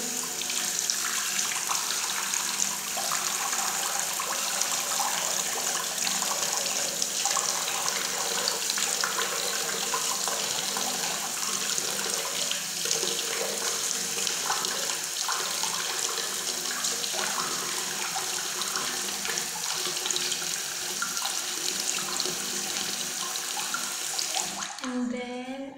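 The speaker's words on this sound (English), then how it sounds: "First I'm gonna wash my face" Tap water runs steadily into a bathroom sink during face washing, a constant hissing splash that holds for the whole stretch and then cuts off at the end.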